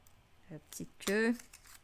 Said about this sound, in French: Donc, on découpe vraiment là